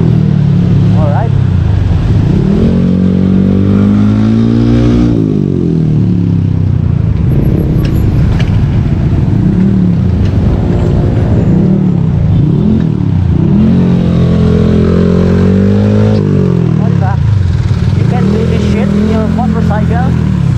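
Road traffic with motorcycles and cars rumbles nearby, engines droning and rising and falling in pitch continuously on a congested street, loud and mixed with voices talking.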